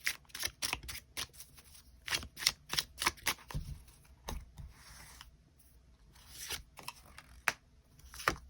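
Tarot cards being shuffled and drawn, a run of crisp, close papery snaps and flicks in irregular bursts with quieter pauses between, alone without talk.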